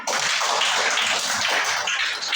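A classroom of students claps briefly and loudly together, a dense burst of hand claps that fills the short moment.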